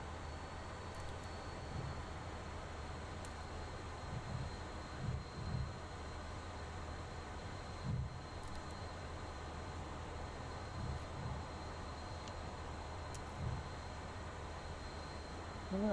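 An F-14 Tomcat jet roars steadily on takeoff in the DCS flight simulator, a constant broad engine drone at moderate level with occasional faint thumps and a voice talking now and then.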